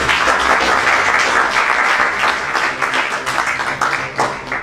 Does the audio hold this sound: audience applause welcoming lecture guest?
yes